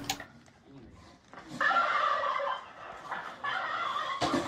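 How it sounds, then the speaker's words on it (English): Turkey-like gobbling and clucking fowl calls come in short bursts at moderate volume, with faint voices in the background. "That sound like chicken."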